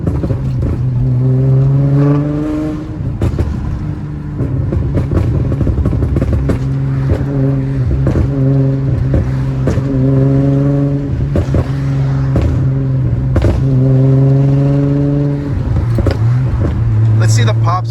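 A Nissan G35 coupe with a loud exhaust revs repeatedly, each rise and fall of engine pitch ending in crackling burbles and pops, with someone talking over parts of it.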